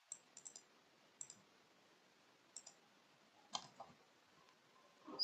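Computer keyboard typing comes as sparse, light key clicks in short clusters, close but faint over a soft hiss with no talking.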